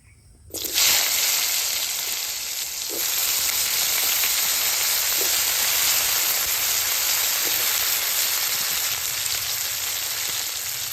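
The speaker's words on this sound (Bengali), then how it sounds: "মাছ ভাজার তেলে আমি সবজিগুলি বেজে নেবো" Vegetables tipped into the mustard oil left from frying shing fish: quiet at first, then an abrupt loud hiss that settles into a strong, continuous, close sizzle, with an occasional soft clunk and no talking.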